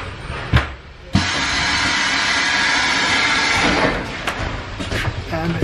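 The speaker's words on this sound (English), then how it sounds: "Look when the doors open." A small Budapest metro train's doors open at a station with a couple of sharp mechanical clunks, then a loud, steady rushing hiss of the train and platform that fades toward the end.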